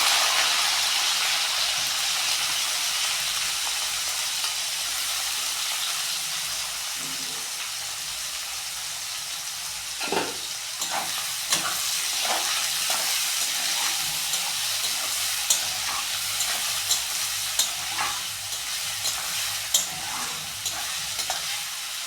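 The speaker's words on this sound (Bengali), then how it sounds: "পেঁয়াজটা একটু সামান্য ফ্রাই করে নেব।" Onions fry in a pan with whole garam masala for a mutton curry, a steady close sizzle running throughout while a spatula stirs and scrapes in clustered clicks during the second half.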